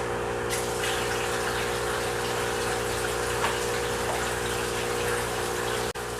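Water pours steadily into a 100-gallon home aquarium tank being set up, a continuous rushing gush with a pump-like hum, loud and close, with no talk.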